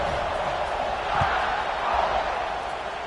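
Stadium crowd at a football game during a kickoff, a broad steady roar of many voices filling the space, swelling slightly midway with a few dull thumps, distant and continuous without a break.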